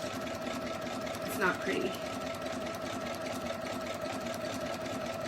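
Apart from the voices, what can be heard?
sewing machine with walking foot feeding and stitching a quillow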